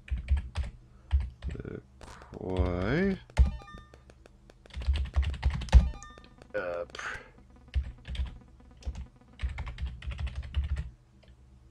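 Rapid clattering keystrokes on a computer keyboard in a typing game, several short bursts of close, crisp taps separated by a person speaking and some musical tones.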